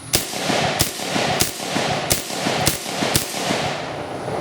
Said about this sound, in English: Seems to shoot soft points just fine.